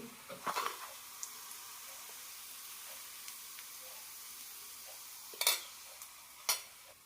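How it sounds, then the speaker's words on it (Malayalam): Shallots fried in ghee being added to a mudavattukkal rhizome soup: a few brief, close spoon clinks and scrapes against the pot, with near quiet in between. "കൂടെ തന്നെ നെയ്യിൽ വറുത്ത ചെറിയ ഉള്ളിയും"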